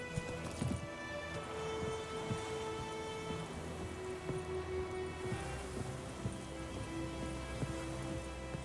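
Roach, the horse in The Witcher 3, gallops along with steady rhythmic hoofbeat clip-clops at moderate distance, mixed with rain-like patter and a soft musical drone, no talk.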